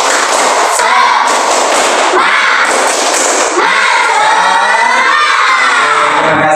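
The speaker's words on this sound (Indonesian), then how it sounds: "Semuanya tepuk semangat." Indonesian sixth-grade pupils in a classroom clap and shout a spirited group chant together, loud and close, with rapid bursts of claps and excited young voices cheering over one another throughout.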